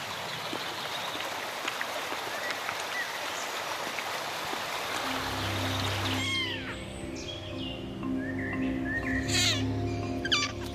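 Young wildcat kittens, about two weeks old, meow and mew near a forest stream, with high thin cries over a steady rushing water background and a low hum.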